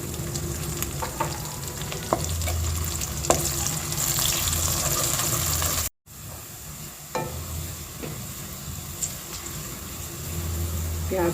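Onions with ginger garlic paste and green chillies frying in oil in a pan for a mixed vegetable pulao, a steady close sizzle with occasional stirring scrapes and a short break midway.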